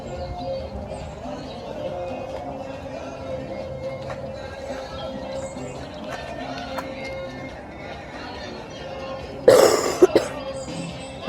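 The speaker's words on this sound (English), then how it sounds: "as my son coughs into it" A child coughs once with a short, loud burst near the end, heard over steady background hum and faint bird chirps inside a stripped-down amusement park ride building during close-season construction.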